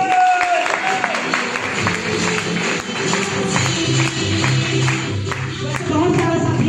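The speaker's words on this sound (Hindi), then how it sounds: "जबरदस्त ताली होनी चाहिए।" Loud, continuous clapping from an audience at a meeting fills the whole stretch, with voices talking through and under it.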